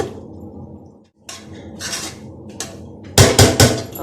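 Boiled rice and fried vegetables for egg fried rice are stirred together in a pan. Soft scraping gives way to several sharp, close metallic clatters of a utensil against the pan near the end, with no talk.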